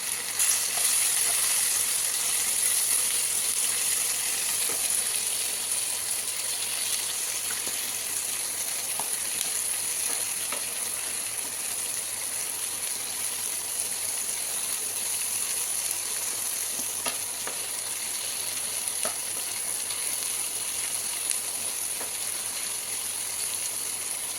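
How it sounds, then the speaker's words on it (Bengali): A generous amount of onions sautés in a pan for onion paratha, making a continuous, even frying hiss with occasional faint stirring clicks throughout. "এবার এটা কষাতে কষাতে সেটা আবার একটু কমেও যায়।"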